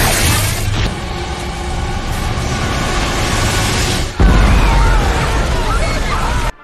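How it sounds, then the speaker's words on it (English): A film explosion effect plays as a loud, dense roar of noise with a sharp renewed burst partway through, sustained rumble and crackling debris trailing after, with no speech. "That's fake-ass explosion."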